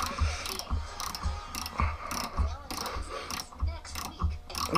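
Repeated creaking, ratcheting mechanical clicks as the plunger of a heated bullet lube-sizer press is tightened down, working in a steady rhythm at close range with no speech.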